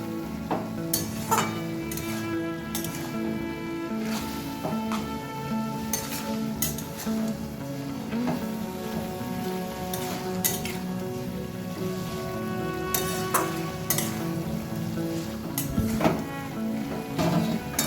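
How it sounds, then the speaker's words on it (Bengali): Bottle gourd greens are stirred with raw mustard oil in a pan, with soft repeated scrapes and occasional clinks of a utensil against the pan over a faint steady background, without talk. "সবটাকে খুব ভালোভাবে এবার একটু মিশিয়ে নেব"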